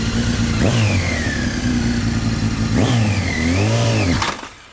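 Motorcycle engine revving loudly and continuously through a failed burnout attempt with the clutch dumped too quickly and too little throttle, pitch rising and falling twice before the engine cuts out abruptly near the end.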